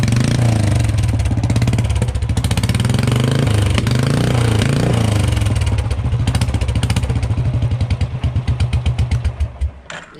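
A motorcycle fitted with a new silencer throbs with a loud, deep bass exhaust, revving close and steady before the pulses slow and fade toward the end.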